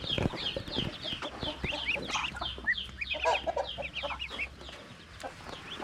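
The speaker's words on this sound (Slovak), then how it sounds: "pozri, aké sú to malé husičky." Small goslings near a roadside in Laos give dense, overlapping high peeps in a busy chorus, fairly close, with low background rumble.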